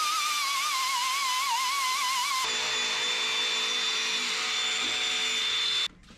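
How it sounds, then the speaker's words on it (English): A roll lock abrasive disc on a power tool cleans around the axle tube of an LS-swapped S-10's 8.8 rear end, a loud continuous high whine whose pitch wavers, then drops to a steadier tone before cutting off. "around our axle tube, we're going to use a roll lock and make sure to get her nice and clean."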